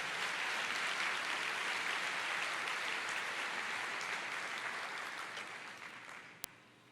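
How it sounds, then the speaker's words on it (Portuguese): Church congregation applauds during a sermon, a broad, sustained round of clapping that slowly fades over several seconds and ends with a single sharp click. "Aplauda."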